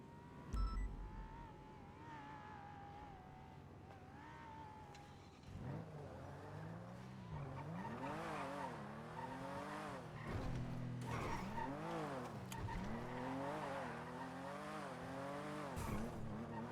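Engine revs rise and fall repeatedly with tire squeal as a car drives a lap in GTA roleplay on the NoPixel server, a steady game soundtrack of shifting and skidding with no talking.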